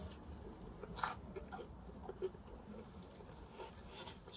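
Soft crunchy bites and chewing on a puffed pepperoni pizza crust, crisp outside and soft inside, close to the mic, with a few sharp crunches against low background noise.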